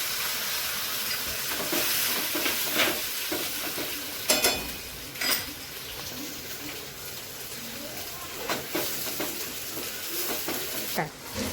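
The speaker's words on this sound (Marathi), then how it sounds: "हिरवी मिरची, कांदा, लसूण आणि अद्रकची पेस्ट केलेली आहे ते आपण यात टाकून द्यायचे आहे। आणि चांगले परतून घ्यायचे आहे।" Paste of green chili, onion, garlic and ginger sizzles and fries steadily in hot oil, with intermittent stirring scrapes and clinks of a spoon against the pan.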